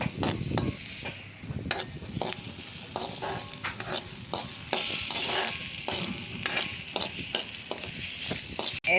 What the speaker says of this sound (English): Fry it until it's translucent.